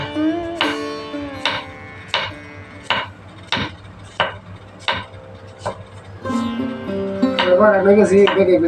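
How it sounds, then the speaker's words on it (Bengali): A knife chops potatoes finely on a board, giving eight or so sharp, evenly spaced thuds close up, followed by a faster, clattering burst of cuts with some tonal kitchen ringing. "এখন আলু কুচি কুচি করবে।"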